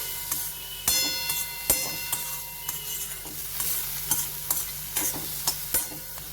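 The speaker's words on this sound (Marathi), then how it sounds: "आता हे एक ते दोन मिनिटं छान परतून घ्यायचं" Vegetables for a millet flour soup sizzle steadily in a pan while a spoon stirs them, giving repeated scraping clicks over continuous frying hiss, close and moderately loud.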